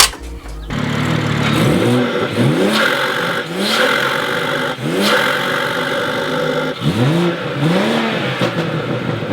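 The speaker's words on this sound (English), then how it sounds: "I'm gonna start the car right now and see how it reacts." A BMW engine with an upgraded intake pipe starts, then revs repeatedly in several rising surges, close and loud, with a steady idle rumble between the bursts.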